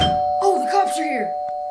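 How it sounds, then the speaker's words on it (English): A household doorbell chimes once with a sustained ringing tone, while a voice talks over it and the tone rings on to the end. "Another everyday sound. The doorbell."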